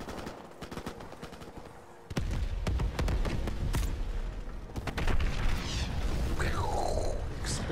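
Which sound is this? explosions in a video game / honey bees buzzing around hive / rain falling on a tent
explosions in a video game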